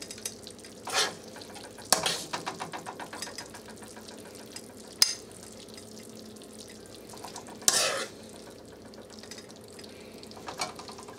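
Wild turkey meat and vegetables stir frying in a hot pan, a soft continuous sizzle broken by a few sharp clattering stirs and scrapes, close and fairly quiet.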